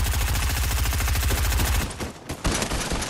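Automatic gunfire in the game Fortnite hammers out a fast, loud, steady burst of shots, then breaks off into a few separate shots.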